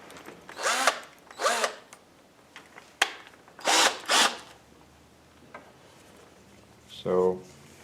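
Several short bursts of a power drill whirring, each a second or less, with pauses between and a final brief spin near the end, drilling shallowly into thin material.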